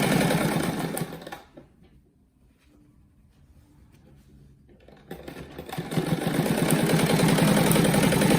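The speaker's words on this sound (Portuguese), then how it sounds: "Passar uma costura do lado dessa primeira aqui, ó, a largura do pé da máquina" Sewing machine stitching a patchwork rug, a steady fast mechanical whir that slows and nearly stops mid-clip before racing back up loudly and close.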